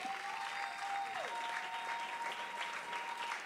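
Applause from a church congregation rises and holds at a moderate distance, a steady wash of clapping with a faint high tone running through it and no speech.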